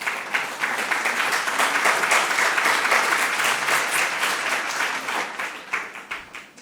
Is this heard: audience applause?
yes